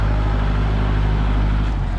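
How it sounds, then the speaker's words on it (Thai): A loud, steady Kubota L45DI tractor engine drone under throttle with a strong low rumble, holding constant close by with a slight dip near the end. "เราเหยียบคันเร่ง โอ้"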